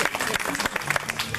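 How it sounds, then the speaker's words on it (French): A crowd at an outdoor Easter festival gathered around a tree claps, a short burst of dense applause under overlapping voices. "va applaudir parce que ça, on ne voit pas ça chaque fois"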